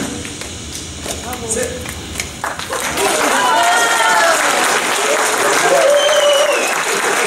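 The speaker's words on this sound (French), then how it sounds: "Vous pouvez applaudir, hein." Applause after a stage performance by a group, starting with scattered claps and shuffling, then swelling into loud full clapping mixed with voices and cheering from the crowd.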